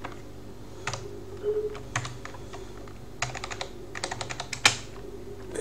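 Keys tapped on a computer keyboard in uneven bursts, with short runs of quick clicks separated by pauses, close up and alone without talk.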